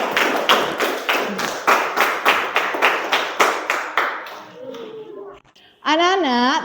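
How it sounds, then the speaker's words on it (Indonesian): A classroom of children claps in unison to a steady beat, about a dozen sharp, rhythmic claps, then it goes briefly quiet before a voice speaks. "Tepuk tangan untuk Rohman dari kelompok 1"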